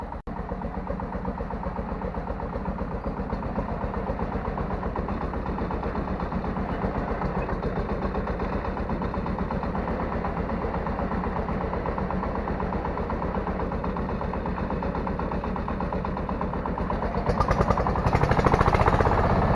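A tractor engine runs steadily nearby during potato season, a constant low throbbing chug that grows louder and rougher near the end.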